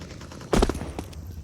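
Pistol gunfire during a professional Counter-Strike match on the Ancient map at IEM Chengdu 2024: a brief loud burst of a few rapid shots, then a fainter single report, over steady game ambience.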